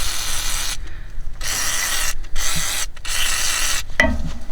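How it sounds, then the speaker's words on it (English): WD-40 sprays onto the valves of a tractor loader in several loud, close hissing bursts separated by short pauses, and a brief clank sounds near the end. "we're just going to spray these things down"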